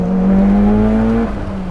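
A 600HP built 2.2L stroker Mitsubishi EVO X engine revs loud and close, holding a strong rising note before dropping back to a lower drone.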